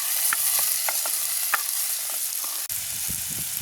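Peanut curry being stirred in a pan, a steady sizzle with soft scraping strokes of the spoon against the pan, close and continuous, with no talking.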